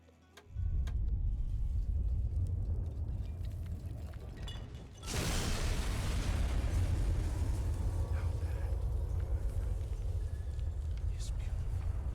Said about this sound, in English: You may have escaped the blast of an atomic bomb